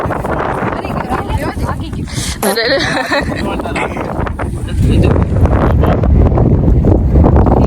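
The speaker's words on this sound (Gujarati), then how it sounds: "ફૂલ કેટલો પવન આવે." Strong outdoor wind roars and buffets the microphone in a steady rumble that grows heavier partway through, while a person talks over it.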